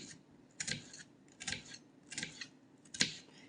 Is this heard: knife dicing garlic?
yes